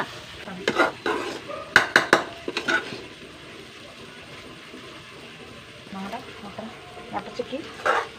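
Curry leaves are stirred into curry in a pan, with a burst of close clinks and scrapes of a spoon against metal, then quieter stirring, as a person talks over it.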